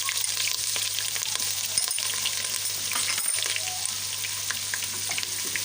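Ginger and garlic sizzle steadily in a pan of hot ghee, a dense continuous crackle with occasional stirring scrapes, close and loud with no voices.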